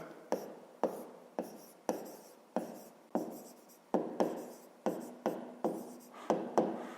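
Pen strokes scratch across paper in a quick, regular rhythm of short bursts, close and quiet, as figures are written out by hand for a fifth-grade maths exercise.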